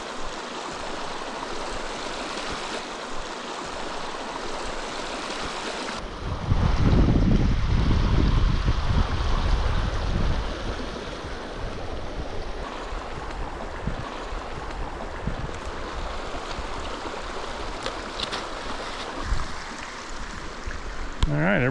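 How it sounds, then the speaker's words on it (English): Creek flowing at a wilderness trail crossing in the Golden Trout Wilderness, a steady rushing of water near the microphone with a louder, closer surge partway through and wind noise at times. "This looks like our creek crossing here."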